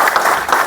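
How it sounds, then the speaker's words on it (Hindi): An audience at a political gathering claps in welcome, a short burst of dense, bright applause that swells and dips. "तालियों से स्वागत करना।"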